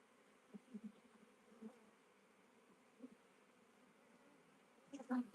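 A swarm of the keeper's own honeybees hums quietly and steadily in the background, with a few louder buzzing bursts and some handling knocks that grow close and loud at the very end.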